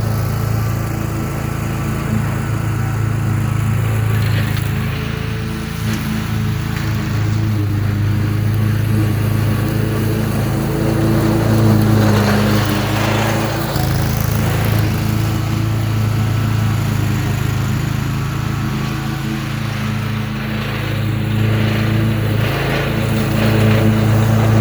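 A Gravely ProTurn 152 zero-turn mower cuts grass with a constant loud engine drone. The deck shakes and rattles from poorly sharpened, unbalanced blades, and the noise stays close and steady throughout.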